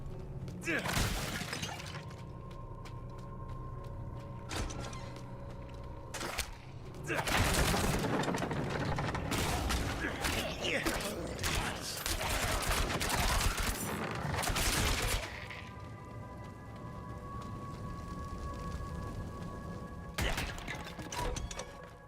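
A Rogue's rapid fire skill in Diablo 4: quick volleys of shots with shattering impacts and mechanical clatter come in dense bursts, under someone talking throughout.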